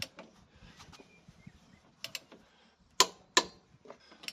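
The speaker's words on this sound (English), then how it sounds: "So I like to torque the wheels before you're fully on the ground" Torque wrench clicking as it tightens the wheel nuts on a car before it is lowered fully to the ground, two sharp, loud ratchet clicks close together following quieter mechanical ticking and handling noises.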